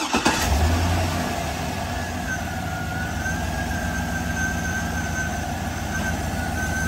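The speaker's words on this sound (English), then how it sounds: "start the engine." A car engine cranks and fires up during a battery tester's cranking test, a brief rough start followed by a steady close running hum and whine that holds for several seconds with no talk.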